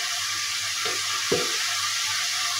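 Eggplant frying in a pan gives a steady, bright hiss, with two soft scraping stirs partway through and a low hum beneath. No one speaks.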